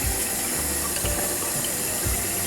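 Tap water runs steadily over water softener venturi parts and an O-ring as grime is rinsed off, a continuous close splashing wash with no talking.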